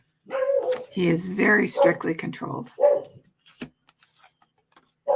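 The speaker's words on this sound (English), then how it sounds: "Hear my puppy in the background." Someone speaks while a puppy barks and yips in quick bursts beneath and after his voice, close by.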